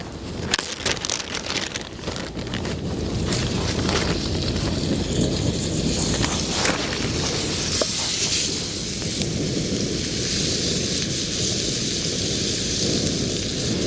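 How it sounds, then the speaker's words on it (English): Strong wind buffets a Tigris Apex hot tent outdoors while steak strips cook in a pan inside, a loud continuous rushing roar with gusty microphone rumble throughout and no speech. "That wind, settle the fuck down."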